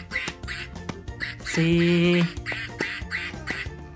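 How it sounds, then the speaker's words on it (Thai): Ducks quack repeatedly in a bouncy rhythm amid a children's counting song about ducklings swimming in a big pond, with a sustained sung note midway and a voice briefly heard. "แต่เป็ดส่งเสียงร้อง"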